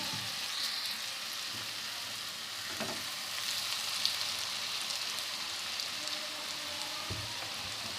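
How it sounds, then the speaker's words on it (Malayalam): Snack pieces fry in hot oil in a pan, a steady close hiss and sizzle with faint crackles throughout and no talk. "ഞാനിവിടെ ഒരു പാൻ അടുപ്പത്ത് വെച്ച് അതിലേക്ക് കുറച്ച് ഓയിൽ ഒഴിച്ചിട്ടുണ്ട്. ഓയിൽ ഇവിടെ നന്നായി ചൂടായി വന്നിട്ടുണ്ട്."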